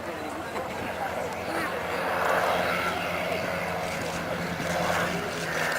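A de Havilland Chipmunk with a Gipsy Major 8 engine flies at the Duxford autumn airshow, its propeller drone steady and moderately distant, swelling slightly as it passes beneath continuous commentary.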